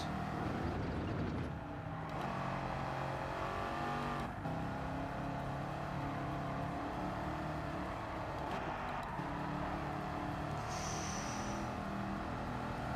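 Car engine in Gran Turismo 7 held in third gear on comfort tyres, a loud continuous high-revving drone with steady harmonic whine and small pitch shifts, alone with no talk.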